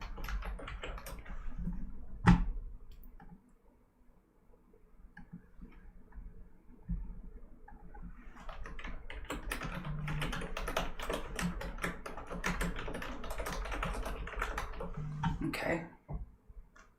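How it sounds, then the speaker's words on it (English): Someone types a note on a computer keyboard in a steady run of close clicking keystrokes, pausing briefly midway then resuming in a dense flurry before stopping, with faint background noise and no speech. "let me type myself a note"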